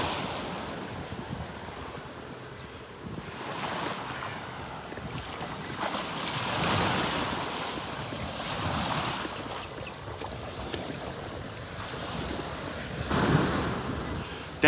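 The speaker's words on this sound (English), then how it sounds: "You can see right where these little waves are kind of rippling over." Small waves rippling over a sandbar at Lowdermilk Park beach in Naples, Florida, heard as a soft, continuous wash with gentle surges rising and falling every few seconds, light wind in the background.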